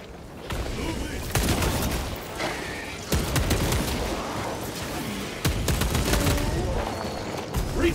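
Dense, continuous gunfire from enemies in the video game Space Marine 2, with rapid bursts and heavy impacts filling the mix and a voice talking over it.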